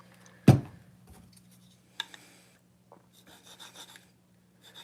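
M4 steel knife being sharpened by hand on Venev stones: a sharp scrape up close, then sparse light rasping and gritty rubbing strokes, quiet with pauses between.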